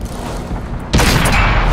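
Tank guns fire in World of Tanks: a low rumble of engine and battle noise, then a single loud, sharp cannon blast with a booming tail that fills the rest.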